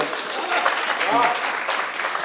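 Applause from an audience at a Hindi kavi sammelan poetry recital, a steady wash of clapping filling the room and sustained throughout without a pause.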